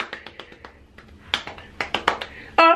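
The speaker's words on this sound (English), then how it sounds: "I'm gonna clap on myself" A person applauding themself, a quick series of sharp, close hand claps in an irregular rhythm, heard alone without talk.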